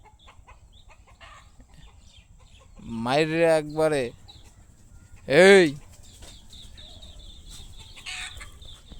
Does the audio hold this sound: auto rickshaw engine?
no